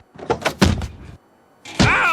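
Cartoon blows land on someone in an attempt to knock him out, heard as several quick thumping impacts in a row, then a short pause and another loud hit.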